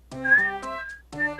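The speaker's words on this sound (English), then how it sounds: "She must have been whistling." Starla, a character in the video game Magician's Quest, whistles a short, bright tune in quick phrases broken by a brief pause, clear and alone against a silent background.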